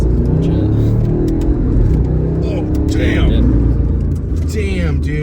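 Modified twin-turbo V8 BMW accelerating on the road, a loud, steady engine roar that rises in pitch through the gears, heard close up with excited voices talking over it.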